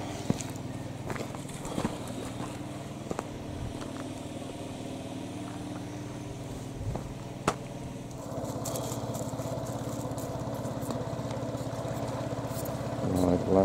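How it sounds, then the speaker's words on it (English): A noisy air compressor runs steadily with a low mechanical drone and rattle, getting a bit louder and busier toward the end, with scattered clicks and knocks over it. "Look at the noisy compressor."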